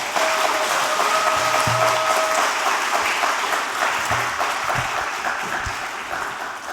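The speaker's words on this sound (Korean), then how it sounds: "선교사님 나오실 때 큰 박수 한번 하시죠." A church congregation claps loudly for a missionary at an afternoon worship service, broad sustained applause that holds steady and then slowly tapers toward the end.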